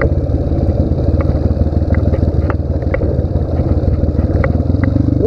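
A Honda CRF230 dirt bike engine drones loudly and steadily as it climbs a steep trail, a close, continuous rumble with faint clattering over the top and no talking.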